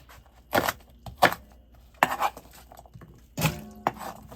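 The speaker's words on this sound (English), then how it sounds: "I do about 3 chops across, 2 chops down." A knife chops food on a cutting board in sharp, separate strikes, some in quick pairs, with brief pauses between them; close and fairly loud over a quiet kitchen.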